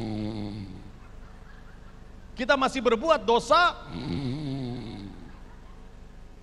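A voice imitates loud snoring during a Friday mosque sermon: a burst of rough, rhythmic snorts comes in the middle, with spoken sentences before and after it.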